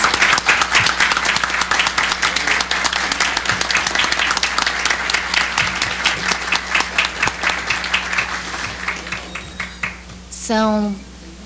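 Audience of about fifteen community agents applauding together at a gathering, dense steady clapping that thins into scattered claps toward the end, followed by a brief voice.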